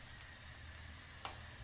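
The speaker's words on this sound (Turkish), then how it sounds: "Ve yine güzelce karıştırıyorum." Seasoned lentil mixture is stirred in a hot pan, a soft continuous sizzle with a brief scrape of the spoon near the end, fairly quiet and close.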